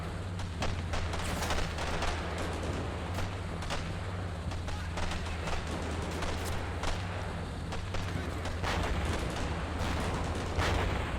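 Battle sounds from a video game: hand grenade explosions and rapid gunfire crack and boom continuously over a dense rumbling background, with some voices mixed in.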